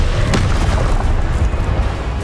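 Incendio fire spell cast in Hogwarts Legacy: a sharp, loud burst at the start, followed by a roaring, rumbling rush of flame that carries on steadily to the end.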